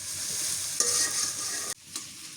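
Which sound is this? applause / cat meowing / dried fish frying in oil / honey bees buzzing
dried fish frying in oil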